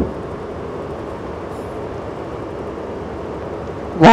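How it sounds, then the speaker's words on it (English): An ÖBB 2016 locomotive hauling a container train in a train simulator game, a steady low rumble of wheels and motors droning throughout, ending in a sudden loud burst. "This train's so hard to drive."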